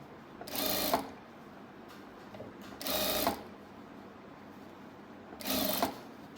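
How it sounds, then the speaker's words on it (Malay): Sewing machine stitching a seam on fabric for a telekung prayer garment, three short separate bursts of close mechanical whirring with quiet gaps between them. "sambung sebelah jahit lagi, start daripada sini sampai ke hujung"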